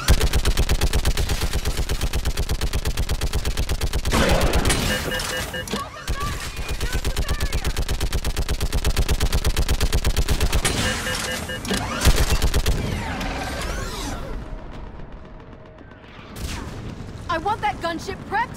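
Mounted gun firing in Mass Effect 3 during the fall of Thessia, a loud, sustained rapid stream of shots that pauses briefly, resumes, then tapers into scattered combat noise and voices.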